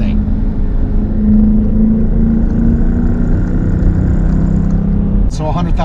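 A 475 hp all-wheel-drive car's engine drones steadily from inside the cabin under a person's talk, with a brief shift in engine tone near the end as the driver downshifts.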